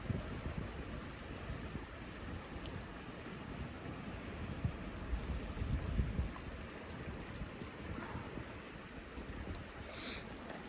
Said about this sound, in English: We're here by this babbling brook in Pecos wilderness.